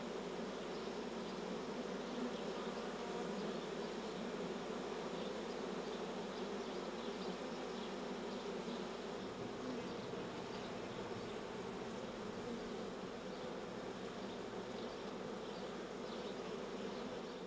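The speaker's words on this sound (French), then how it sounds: "l'essaim s'est fixé sur un arbre, attendant que les ouvrières éclaireuses aient trouvé une cavité susceptible de les accueillir" A swarm of honey bees clustered on a tree gives off a steady, dense buzzing hum that carries on without a break, moderately faint and with no voices.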